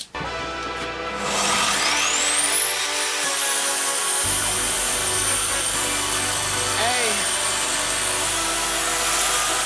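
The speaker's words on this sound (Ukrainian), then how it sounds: "давайте попробуємо розпустити дві доски зразу" A Grand circular saw spins up and rips two 55 mm wide, one-metre wooden boards at once, giving a loud, sustained high whine close by as the blade bites through the wood.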